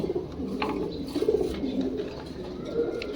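Pigeons coo close by in a few soft, rolling, repeated phrases over a low background hum.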